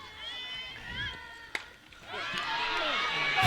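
Crowd at a varsity high school softball game reacts as the right fielder drops a fly ball, with a murmur rising into a louder swell of cheering and shouting from spectators in the stands.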